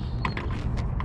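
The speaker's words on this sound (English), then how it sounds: "now we're going to pop the hood" The hood of a Fox Body car with a 408 stroker engine, held by locks rather than a hood release, is opened with a brief creak and a few light mechanical clicks, close and short.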